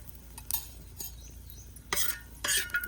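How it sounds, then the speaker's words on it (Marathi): Coconut roasts in a little oil, with a utensil stirring and scraping the pan in a few short bursts over a faint sizzle, quiet and close. "खोबरं आता भाजून घेतो तेल टाकलं थोडंसं"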